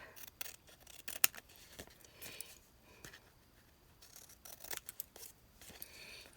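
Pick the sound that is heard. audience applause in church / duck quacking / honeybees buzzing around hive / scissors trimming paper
scissors trimming paper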